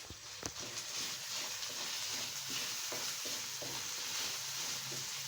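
Carrots sizzle in a pan while being stirred for a macaroni dish, giving a steady frying hiss broken by repeated scraping strokes of the spoon.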